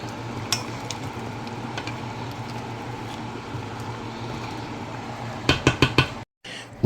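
Okra, frozen spinach and prawns simmer in a pot of seafood stew, giving a steady low bubbling under constant background noise, with a few sharp clinks of a utensil against the pot near the end.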